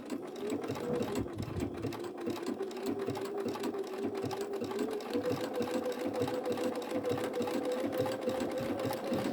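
A sewing machine runs a blanket stitch with a steady, rhythmic motor hum and rapid needle clatter, continuous and close by.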